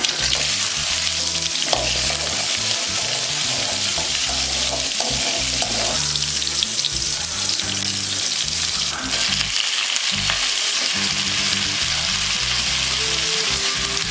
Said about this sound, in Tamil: எண்ணெய் காஞ்சது கடுகு உளுந்த பருப்பு சூப்பராக சின்ன வெங்காயமும் வரமிளகா வந்து விதை நெக்கியும் எடுத்து வச்சுருக்கேன்